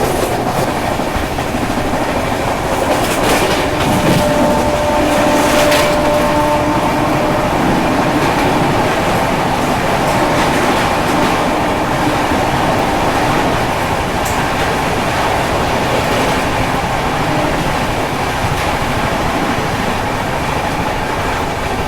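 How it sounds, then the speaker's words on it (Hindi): The Sampark Kranti Express rushes through a station at speed, heard from on board as a loud continuous rumble with rhythmic clickety-clack of wheels over rail joints and a brief faint squeal. "अच्छे खासे रफ्तार में ट्रेन को स्किप करती है।"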